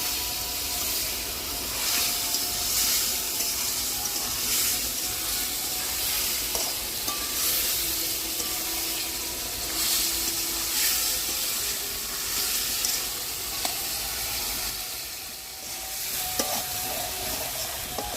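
Potatoes and pointed gourd for a vegetarian aloo potol curry sauté in hot oil, giving a continuous dense sizzle and hiss with occasional scraping stirs and faint clinks, close and steady without talk.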